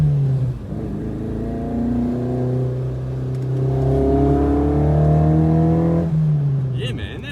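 A classic Volvo P1800 with a street race cam drives and accelerates, its engine droning loud and close as it climbs through revs for several seconds before easing off, with voices speaking briefly near the end.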